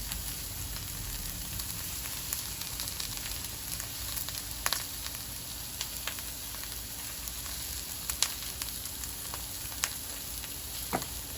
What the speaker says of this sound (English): Okay, it's searing, but it's not going to be in there long enough to actually cook.